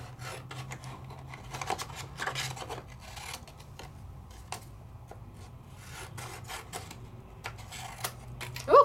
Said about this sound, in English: I'm just going to trim this down just a little bit.